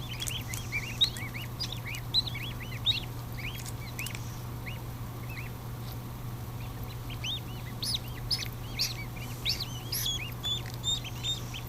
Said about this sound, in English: No, you're chirping. I can hear you.